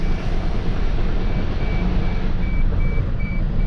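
A car's internal combustion engine idles steadily during diagnostics, with antifreeze suspected in the exhaust system; a continuous low rumble holds at constant level throughout, with a faint repeating high tone on top.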